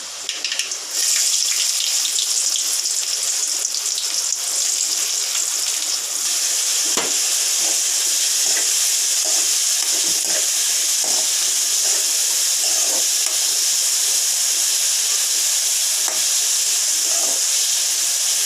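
Onions fry steadily in hot oil with mustard seeds, fenugreek and cumin for a tamarind kuzhambu with green turkey berries, giving a continuous close, loud hiss and sizzle with faint crackles and no talking.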